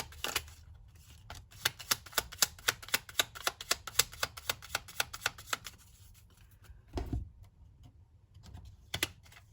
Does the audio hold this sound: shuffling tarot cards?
yes